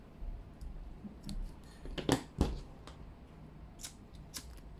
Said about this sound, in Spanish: Y cortamos el hilo sobrante